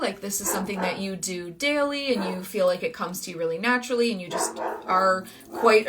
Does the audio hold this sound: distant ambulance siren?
no